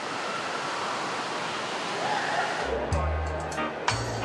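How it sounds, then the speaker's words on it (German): Water surges and bubbles at a wildwater slide in a huge thermal spa, a dense continuous rushing wash, with a voice narrating over it near the end. "Nun aber sprudelt es wieder und die Wildwasserrutsche kann freigegeben werden."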